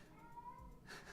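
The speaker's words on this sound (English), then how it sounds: "It's my cat making noises." A pet cat lets out a single drawn-out meow, faint and somewhat distant, with a soft rustle at the end.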